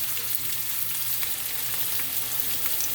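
Ingredients for jollof rice stir-frying in a pot, an even, continuous sizzle with a low background hum and occasional soft clicks, no speech.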